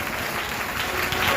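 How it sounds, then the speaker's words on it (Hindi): A church congregation claps together during a worship service, a dense continuous burst of hand clapping filling the room, loud and close throughout the short stretch. "जोर से परमेश्वर की महिमा के लिए ताली बजाएं।"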